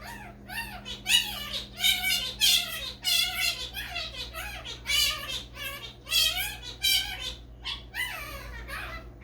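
A pet bird squawks and screeches insistently at close range, a rapid series of loud harsh calls with short gaps, no talking.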